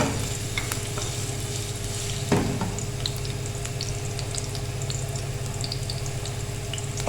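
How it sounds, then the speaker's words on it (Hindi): Garlic frying until golden in a pan for moong daal, a steady close sizzle with a faint stir or clink near the middle and no talking. "पहले हम लहसुन को डालेंगे,"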